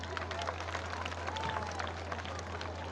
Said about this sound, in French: Applaudissez-vous les enfants.